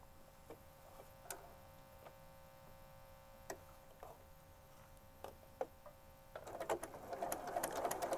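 A sewing machine stitches a quilt block seam for a scrappy checkerboard-style quilt, starting with sparse ticks and clicks before running steadily in a dense, rising mechanical whir near the end, with no talk.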